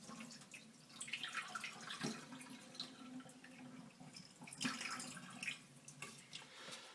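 Brown rice being stirred in water for a final rinse, with steady watery swishing and sloshing throughout and a few sharper splashes, close and moderately loud with no talk.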